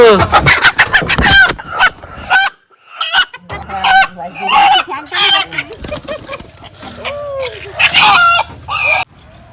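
Country (desi) chickens cluck loudly and repeatedly nearby, with a rooster crowing among them and people talking over the birds.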